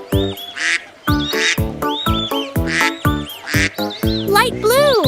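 Voices imitate a mother duck's quacking in a children's song about five little ducks, with a rapid series of loud, rhythmic sung quacks and a sliding, warbling ending.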